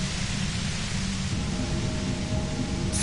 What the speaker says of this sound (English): Violet white noise becomes even more overwhelming closer to the compressor